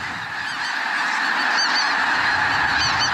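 A large flock of snow geese honking all at once, a dense, continuous chorus of overlapping calls, loud and steady throughout.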